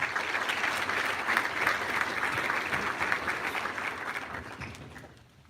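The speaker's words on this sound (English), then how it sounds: "So another round of applause for those people." Audience applause at a high school academic achievement awards ceremony, with steady clapping from a crowd indoors that carries on for several seconds and then fades out at the end.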